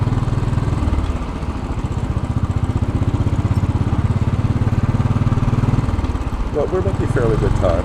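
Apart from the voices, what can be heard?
Royal Enfield Bullet 500 motorcycle riding in city traffic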